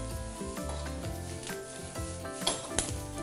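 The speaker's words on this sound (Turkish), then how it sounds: "Sebzeleri sertlik durumuna göre sırayla tavaya ilave edeceğim." Sizzling of vegetables (carrot, colored peppers, zucchini) from a frying pan, a steady crackle with occasional scrapes and a couple of sharper clicks, close by with no talking.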